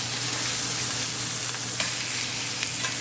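A 60-day butter-aged prime ribeye steak sears on a barbecue grill with a dense, continuous sizzle, close and even throughout, with a faint low hum underneath.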